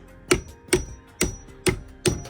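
A hammer knocks on a Nissan 350Z differential part during a KAAZ 1.5-way limited-slip differential install, five evenly spaced strikes about half a second apart, moderately close over a low hum with no talk.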